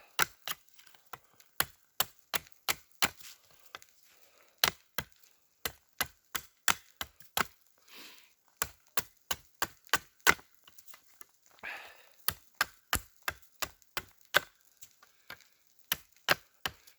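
An ESEE knife carving a point onto a wooden spear, crisp repeated woody cuts in a steady, close rhythm with short pauses and quieter shaving scrapes between strokes.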